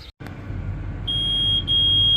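A grain cart scale system gives off a steady, piercing electronic beep after a brief soft knock. The tone holds almost without a break, dips once for a moment, then resumes, close by and alone over a low background hum.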